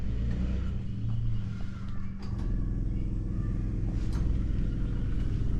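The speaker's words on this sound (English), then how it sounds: "We should hear the fuel pump come on." The electric fuel pump on an old Chevy runs as a steady, low, droning hum with a faint buzzy edge, continuous and close for several seconds, with a few light clicks and knocks over it and no speech.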